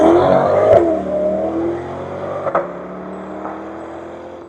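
A 3,500 pound C8 Corvette with a V8 and 8-speed dual-clutch gearbox accelerating from 0 to 60, a loud close engine roar climbing in pitch, with quick gear shifts that briefly interrupt the rising note.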